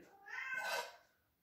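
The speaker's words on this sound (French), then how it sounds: "vous entendez Pepper qui miaule, qui veut sortir, malgré le mauvais temps" A house cat gives a single drawn-out meow, wanting to go outside, close and clear but fairly quiet, rising and then fading away on its own.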